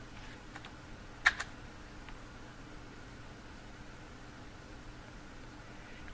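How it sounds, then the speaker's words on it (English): A couple of quick, crisp keystrokes on a computer keyboard, followed by a lighter tap, against a faint, steady fan-like hum in an otherwise quiet room. "you can simply type this keyword into the search bar"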